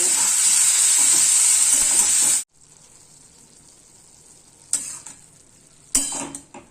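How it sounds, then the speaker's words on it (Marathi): Chopped cabbage in a hot pan gives a loud, bright sizzle for a couple of seconds, then stops abruptly, followed by two short bursts of stirring and scraping against the pan. "वरतून धुतलेली कोबी चिरून ठेवलेली ती टाकून घेऊया चांगले खालीवर करून घेऊया"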